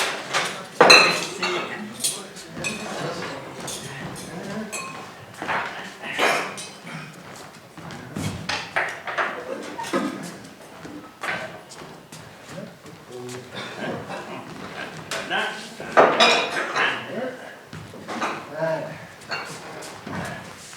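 Dishes, plates and silverware clink and clatter as a romantic dinner table is set, repeated light knocks and chinks throughout, with people talking over them and a dog barking.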